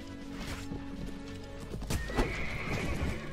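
Horses gallop and neigh in a battle in the Mount & Blade Warband game with the Brytenwalda mod, close rapid hoofbeats running throughout while a loud whinny breaks out midway, amid clashing battle noise.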